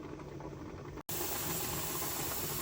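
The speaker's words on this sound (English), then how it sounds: "when I say the word venting, the steam coming up here is what I'm talking about" Steam vents from a pressure canner processing deer meat as a steady, loud, broad hiss, cut off by a brief dropout before resuming just as strong.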